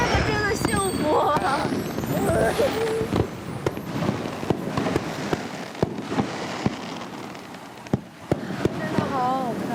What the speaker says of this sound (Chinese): 那烟花还有心形的